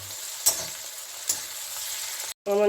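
Tomato with spices frying in a pan gives a soft steady sizzle, with two brief spatula scrapes, before the sound cuts out abruptly and a different tone begins.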